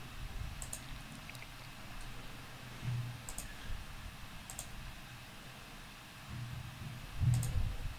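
A computer mouse clicks sharply several times at irregular intervals, crisp and close, over a quiet background hum with faint low rustles.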